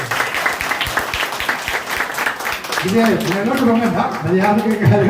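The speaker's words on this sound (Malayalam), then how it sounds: "അവരൊരു നല്ല കയ്യടി കൊടുത്തു" Applause from an audience at a family association's annual gathering, a dense patter of clapping under someone speaking loudly over it throughout.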